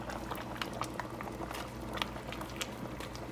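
Snow crabs cooking in a pot of Haitian bouyon with turkey neck and vegetables, a quiet steady bubbling boil with small pops and liquid patter, no talking.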